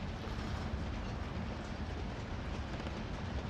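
A train in the video game Call of Duty: Modern Warfare rumbles steadily as it runs, a continuous low, noisy roar with no pauses and no one talking.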